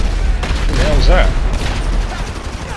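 Gunfire in a GTA V Online firefight bursts out in quick, loud rattling shots through most of the clip, mixed with a voice talking at the same time.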